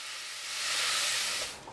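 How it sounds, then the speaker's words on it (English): Ground beef browning in a pot for Philly chili gives a steady, broad hiss that swells in the middle and eases toward the end, heard alone and fairly close. "cook your ground beef until it is all browned"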